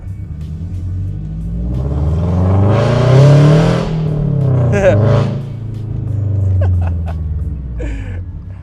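A Toyota GR86 fitted with unequal length catless headers revs loudly and close by, its engine rising into two strong surges and easing back between them, while someone speaks under the noise.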